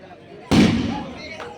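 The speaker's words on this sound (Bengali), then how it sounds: "আতশবাজি" One loud firework bursts at an outdoor night show in a lit railway park, then rumbles and fades over the next second, with a fainter crackle near the end.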